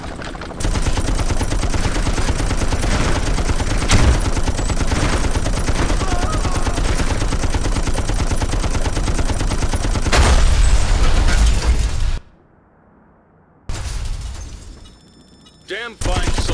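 A mounted fixed gun in the Xbox game Ghost Recon Advanced Warfighter fires heavy automatic bursts in a dense, unbroken stream for about twelve seconds, then cuts out briefly before fire resumes near the end.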